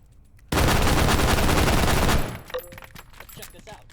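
Sustained automatic gunfire from a first-person shooter game, a loud burst of rapid shots lasting under two seconds that cuts off abruptly, followed by quieter clicks and faint noises.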